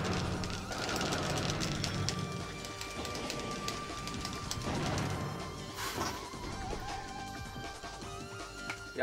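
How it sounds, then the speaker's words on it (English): Rapid Gatling gun fire from a Custom Robo battle, a dense continuous rattle of shots with crashing hits mixed in, steady and loud throughout with no talking. "why does the Gatling gun stun lock so fucking hard?"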